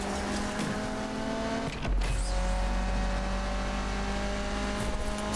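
A 2017 Porsche Panamera Turbo's engine in the racing game Need for Speed Unbound drones steadily through a short test drive, with a brief shift or burst near two seconds before the tone settles into a sustained rumble.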